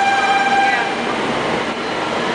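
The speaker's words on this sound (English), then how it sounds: "comes the train" A train arriving at a station in Japan rumbles steadily, with a faint high metallic squeal early on that fades as it rolls along at moderate loudness.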